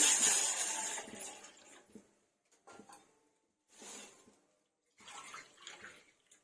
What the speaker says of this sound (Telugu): ఒక బౌల్లో మనం తీసుకున్న సేమియా బౌల్తో త్రీ కప్స్ వాటర్ పోసుకోండి